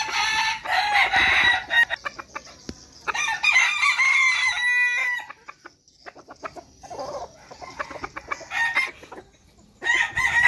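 A Cuban cross bantam rooster crows repeatedly nearby, several loud crowing calls separated by short pauses, alongside softer clucking and other fowl sounds in the background.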